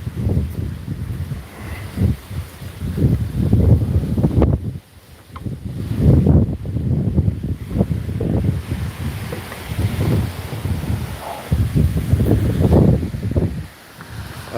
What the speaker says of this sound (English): Okay, wind is blowing.